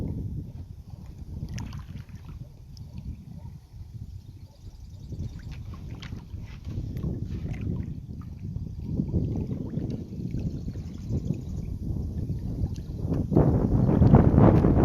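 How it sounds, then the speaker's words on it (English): A kayak paddle dips and swishes through water in a slow rhythm on the lower Hammonasset River near Clinton Harbor, with low rumbling wind buffeting the microphone throughout. "we've been paddling the lower portion of the Hammanosset River"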